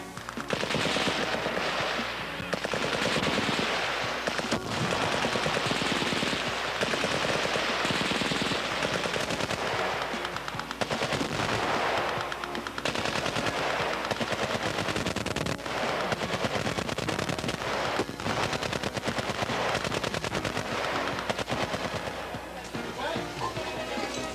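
Sustained machine-gun and rifle suppressive fire during Army combat field training at Fort Jackson, dense and continuous bursts filling the whole stretch at high level, with a narrator speaking over it.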